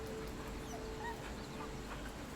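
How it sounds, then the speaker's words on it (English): A dog whimpers and yips softly in Baldur's Gate 3, a few faint high whines over a low steady game ambience. "you still make dog noises"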